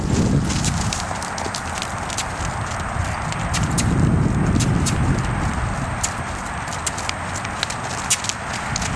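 A ridden horse breaks into a canter, hooves thudding in a steady rolling rhythm on the ground, moderately loud and continuous with no talking.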